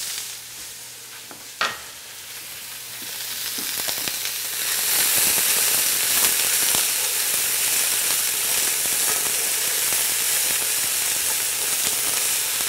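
Salted onions sautéing in a deglazed pan and being stirred and scraped: a few scrapes and clicks at first, then a loud, steady close-up sizzle with stirring knocks running underneath.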